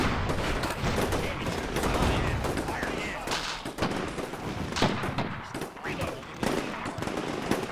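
Military video game combat in which infantry fire an anti-tank rocket at a vehicle amid dense gunfire, with rapid loud bursts and blasts throughout, and a voice talking faintly underneath.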